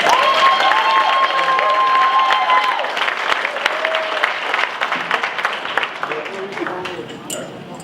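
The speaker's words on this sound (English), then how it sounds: "you can do that by applauding right now" An audience at a community meeting applauds loudly and steadily, with some cheering and voices mixed in, before the clapping slowly thins and fades.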